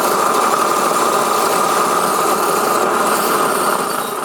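A backpack propane flame weeder burner roars in a parsnip field, a loud, steady rushing hiss of gas flame held at a constant level.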